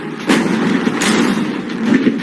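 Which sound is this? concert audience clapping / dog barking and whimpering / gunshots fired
gunshots fired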